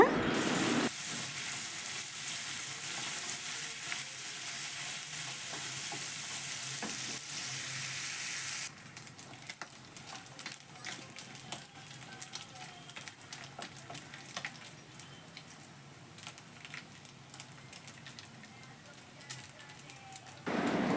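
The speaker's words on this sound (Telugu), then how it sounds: "నెత్తళ్ళు ఇలా ఆయిల్లో వేసిన తర్వాత వీటిని గరిటితో కలుపుతూ దోరగా వేయించాలండి" Dried fish frying in oil and stirred with a ladle: a dense, continuous sizzle with crackling and scraping strokes, close and steady, briefly shifting in tone partway through.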